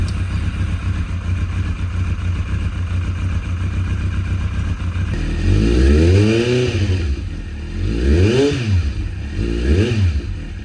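A Kawasaki streetbike motorcycle that had sat unused for about three years cranks and fires up, its engine catching after a steady hum, then revving in several loud rising and falling bursts close by.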